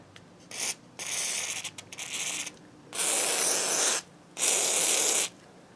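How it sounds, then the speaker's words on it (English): Several bursts of hissing spray from a WD-40 aerosol can, short ones first then two longer sustained blasts, close up with brief pauses between. "I just went and bought a can of WD-40, and I'm just going to spray this down good"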